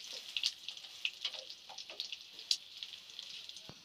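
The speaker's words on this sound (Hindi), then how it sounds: "अब हमने इसके अंदर कड़ी पत्ता भी शामिल कर दिया है।" Curry leaves dropped into hot oil for a dal tempering crackle and sizzle, with a quick spattering of bright pops over a steady hiss, close and fairly faint.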